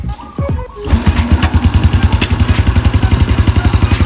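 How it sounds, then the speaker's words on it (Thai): A motorcycle engine cranks and fires up, then settles into a loud, steady rhythmic idle with fast regular exhaust pulses. "เสียงท่อไม่เหมือนตอนแรกเลยนะครับตอนนี้ คือแน่นมากเลย เครื่องแน่นมากนี่"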